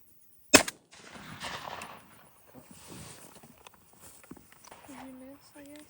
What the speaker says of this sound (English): We fixed to put on a display of shooting like you've never seen.